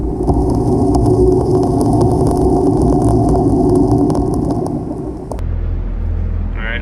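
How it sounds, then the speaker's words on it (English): A boat's second engine running at 1200 rpm gives a loud, steady, close low rumble that drops abruptly to a deeper, quieter drone near the end. "I'm gonna go 1200 on the second engine"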